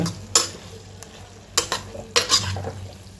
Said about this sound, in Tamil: இந்த மாதிரி நல்ல கிரேவி வந்து மிக்ஸ் ஆகிற மாதிரி நல்லா கலந்து விட்டுக்கோங்க